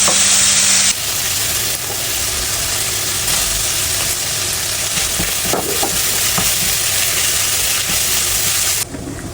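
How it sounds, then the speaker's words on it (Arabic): Meat and onions fry in a pan for a spinach-and-meat stew, a dense steady sizzle filling the whole clip with occasional stirring clinks, close and loud, with no talk. "بحط اللحمة وبنشف ميتها، وبعدين بضيف البصل وبتركها تستوي"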